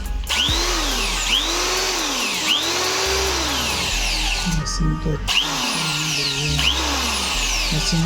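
A Buildskill electric drill machine fitted with a bit runs in repeated bursts during a test, its motor whine rising and falling with each trigger pull, loud and close.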